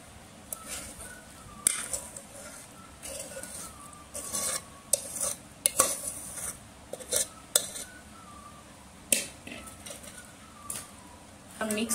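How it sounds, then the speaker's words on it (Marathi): A spoon mixes cooled masala into raw mango pieces for pickle, making close, irregular scrapes and light clinks against the bowl over a soft background. "मिक्स करून घेऊ चमच्याच्या साहाय्याने"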